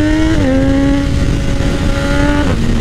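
Triumph Daytona 675R sport motorcycle engine pulling hard in first gear, a loud continuous high-pitched howl rising steadily with brief dips at gear changes, close and alone.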